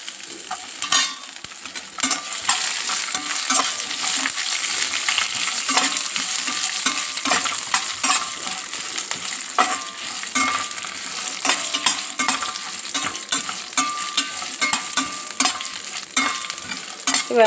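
Garlic cloves fry in hot oil for a dish of cucumber pachadi, giving a continuous bright sizzle broken by frequent scraping clicks of a stirring spoon against the pan.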